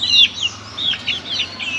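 Chickens kept in a cage cluck in short, repeated bursts, close and fairly clear with a faint low hum beneath.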